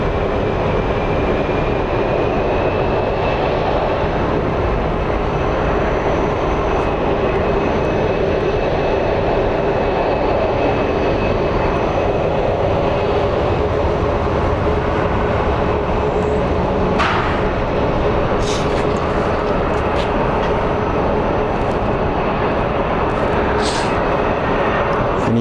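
An Allegiant airliner passing at Phoenix Sky Harbor International Airport, its loud, sustained jet engine roar filling the whole stretch with a broad, steady rumble and whine, no talking.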